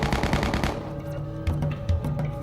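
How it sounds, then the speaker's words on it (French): A rapid burst of automatic gunfire rattles out, followed by a few scattered single shots at a distance. "Dès que Sankara a entendu ces coups de feu"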